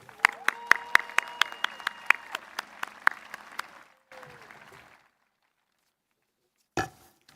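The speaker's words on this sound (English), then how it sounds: "Please join me in offering our finalists a round of applause" Audience applause for award finalists at a university commencement ceremony: sparse, crisp, evenly spaced claps that fade out after about four seconds, followed by a short burst of noise.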